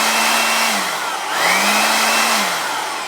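A small portable household electric air blower, meant for blowing out mattresses or cleaning air conditioners, runs loud and close with a steady high whooshing roar and a motor hum that drops and rises in pitch twice.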